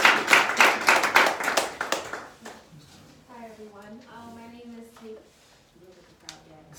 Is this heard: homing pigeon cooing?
no